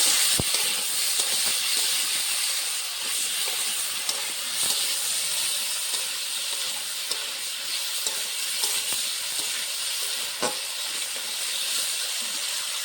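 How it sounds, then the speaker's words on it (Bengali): Potato pieces fry in oil with salt and turmeric, a continuous loud sizzle and hiss with occasional stirring scrapes and taps throughout, no one talking. "একটু নুন দেবো, একটু হলুদ গুঁড়ো, ভালো করে ভেজে নেব।"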